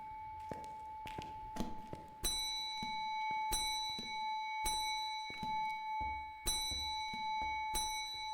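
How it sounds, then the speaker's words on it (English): Bell rung while being juggled in a ghost-hunting video game: loud repeated metallic dings with ringing tones, several strikes in an irregular rhythm over tapping and thumping. "Oh, juggling the bell is so loud."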